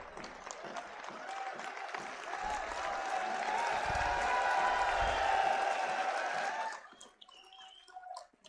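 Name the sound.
audience applause at a Jat assembly speech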